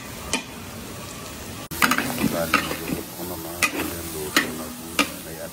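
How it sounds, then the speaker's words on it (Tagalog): Onions cooking in quantity at an outdoor festival stall in Cauayan, Isabela produce a close sizzle, broken by sharp clanks and scraping stir strokes in an irregular rhythm. "Marami sibuyas at baka niluluto na po yan."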